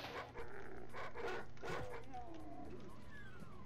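Several dogs bark and yip in the DOOM video game, a burst of quick close barks early on followed by softer whimpering and whining tones that trail off.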